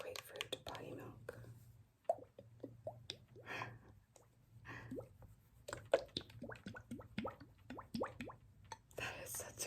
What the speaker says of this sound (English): I'll tap on this. This is pink grapefruit body milk.